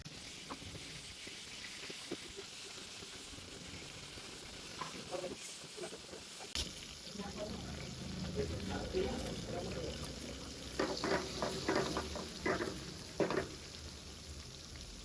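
Bean pods dropped into hot oil on a low flame, a soft sizzle that picks up partway through and continues with light crackling, under quiet talk.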